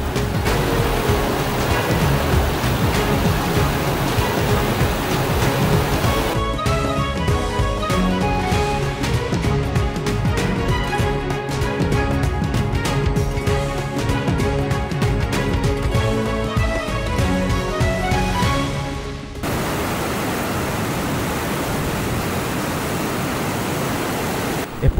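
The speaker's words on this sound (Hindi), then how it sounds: "ये दुईटा जाक वाटरफल स्ट्रीम को डुडुमा डायभर्सन डैम रु कंट्रोल करा हुआ है" Duduma waterfall stream flowing below the diversion dam, a steady loud broadband roar of rushing water filling the whole stretch, with a brief shift in texture near the end.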